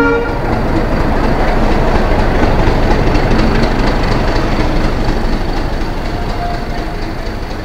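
Mumbai–Howrah Mail train at a station platform, its steady loud rumble and rail noise running continuously, with a faint horn-like tone, no voices.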